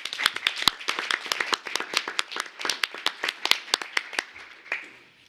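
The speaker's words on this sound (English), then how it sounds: "can we clap for her, too?" A small group at a school board meeting claps in a sparse, uneven burst of distinct hand claps close by, thinning out and fading near the end.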